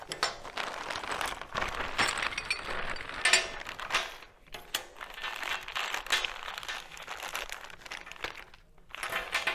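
Cellophane wrapping around Kawasaki KRX 1000 flip forward seat mount parts, crinkled and rustled in irregular close bursts with brief pauses and faint light clinks of hardware, no talk.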